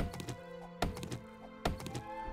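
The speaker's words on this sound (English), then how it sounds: "Chopping down a tree." An axe chops a tree in the video game 7 Days to Die, three evenly spaced hard wooden thunks, each followed by a short rattle, at a fairly quiet level over a faint background hum.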